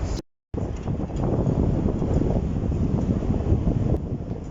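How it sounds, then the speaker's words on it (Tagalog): Wind blows steadily atop a billboard high above a city street, a loud, continuous rushing buffet against the microphone after a brief dropout at the start. "Medyo mahangin na"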